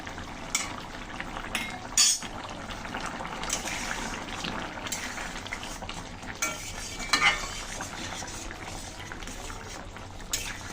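A spoon stirs and scrapes through a potato and eel curry with cumin and garam masala in a pan, soft sizzling underneath, punctuated by a couple of sharper metal knocks.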